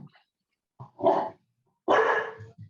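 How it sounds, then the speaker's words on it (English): A young puppy barks twice nearby during a committee meeting, loud and sharp, with a small yelp and soft whimpering sounds around the barks. "Can you hear my dog?"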